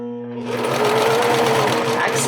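A sewing machine runs steadily, stitching along the thick, layered waist seam of a pair of jeans, with a whirring motor and a fast rhythmic needle beat that starts after a brief pause and holds at close range.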